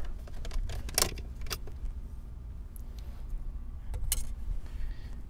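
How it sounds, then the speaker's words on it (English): A flathead screwdriver pries up console trim in an Acura TL, giving a couple of sharp plastic clicks and snaps over a quiet, low car-interior hum. "using our flathead screwdriver. I'm going to get underneath here and just pry up"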